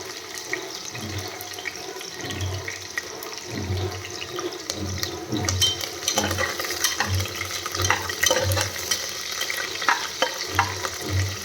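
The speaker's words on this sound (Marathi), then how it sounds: "त्यानंतर याच्यामध्ये आपण आता मिरच्या टाकून घ्यायचं" Green chillies and sliced garlic fry in hot oil in a pressure cooker, giving a steady close crackling sizzle with soft rhythmic low stirring bumps throughout and no voices.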